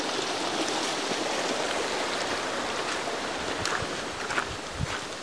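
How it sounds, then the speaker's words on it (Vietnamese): Strong water flowing like a stream beside a home, a steady broadband rush holding constant for the whole stretch, with no voices over it. "Nguồn nước này thì chảy như kiểu là một con suối này,"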